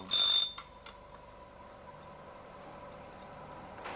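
A mechanical alarm clock gives a short, loud burst of bell ringing at the start, then falls back to quiet, steady ticking for the rest of the moment.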